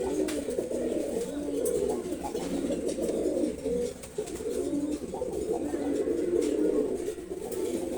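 Silver gorra pigeons coo softly and repeatedly close by, a low murmuring stream of calls against a quiet background.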